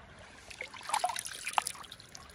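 A small outdoor creek at an off-grid camp trickles and babbles up close, with light splashes and gurgles rising and falling over a low, steady wash.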